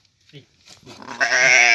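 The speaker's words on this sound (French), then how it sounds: "C'est le mouton." Sheep bleating close by on a farm in Algeria, a long wavering bleat that swells loud after a few soft bumps and rustles.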